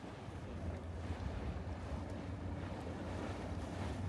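A boat engine drones loudly underway at sea, mixed with buffeting sea wind on the microphone, steady and close, with no talking.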